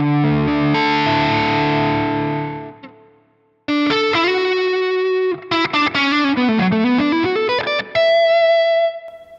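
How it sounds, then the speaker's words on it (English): Heavily distorted electric guitar chords through a Valeton GP-200 ring out, then notes cut off abruptly as a noise gate clamps down too quickly between phrases when the guitar volume is rolled down, leaving sudden silences. "when I roll the volume down, the noise gate is kicking in a bit too quick"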